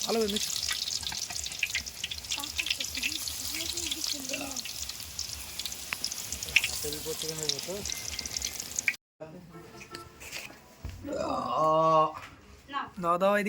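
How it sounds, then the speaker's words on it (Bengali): Battered eggplant fritters fry in oil with a dense, crackling sizzle that runs steadily for most of the stretch, while people talk over it and a louder voice comes in after a brief break. "কত সুন্দর হচ্ছে বেগুনিটা ভাজা দেখতে দেখো ভালো করে"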